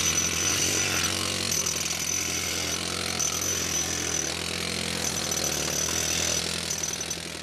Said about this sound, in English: With the air hammers, they could break out big pieces of ice.